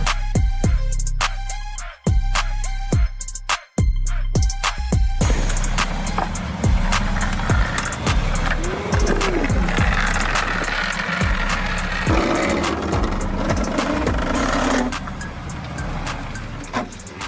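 A Mercedes AMG GTS is cranked with a few rhythmic, choppy bursts and brief dropouts, then settles into a steady, loud engine rumble with sharp transient clicks, close to the car.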